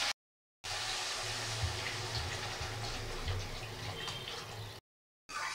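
Water poured into a pan of fish curry with fried spices, a steady splashing pour for about four seconds between brief silences.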